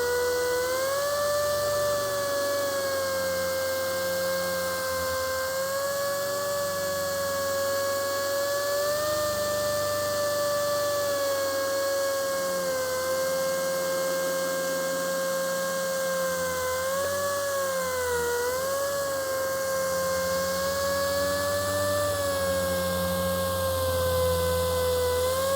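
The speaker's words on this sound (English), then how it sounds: "want to keep the polisher going, keep it moving" A car polisher runs steadily on a hood, buffing off dead, burnt, damaged clear coat, its motor whine holding a constant pitch with slight dips as the pad moves, loud and continuous with no speech.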